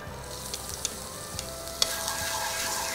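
Shallots and garlic fry in a spoonful of cooking oil in a pan, giving a steady, moderately quiet sizzle with a few soft clicks of stirring.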